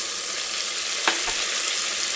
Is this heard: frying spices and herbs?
yes